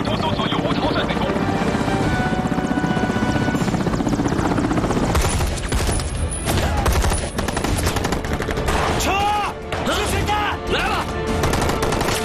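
A military helicopter takes off and flies in a TV drama, its rotor chopping loudly and steadily under dramatic music, with bursts of gunfire and someone talking over it.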